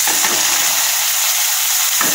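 Chopped onion and tomato fry in oil with spices, a steady close sizzling hiss with faint stirring scrapes near the start and end, and no talk.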